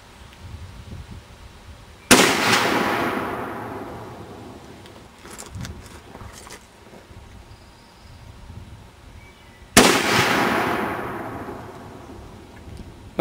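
Two heavy rifle reports from a Gunmetal Designs Big 50 fired at a steel post outdoors, each a sharp, loud blast with a long rolling decay, spaced about seven seconds apart, with quieter rustling between.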